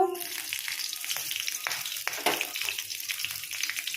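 Soya curry frying and being stirred in a pan, a steady close sizzle broken by scraping and stirring bursts, with no talking.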